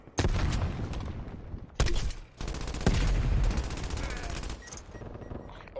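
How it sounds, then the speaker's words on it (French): Minigun fire in Call of Duty Cold War hardcore Kill Confirmed: loud, close, sustained rapid bursts of gunfire broken by short gaps, with faint background voices. "vous avez l'autorisation de faire feu"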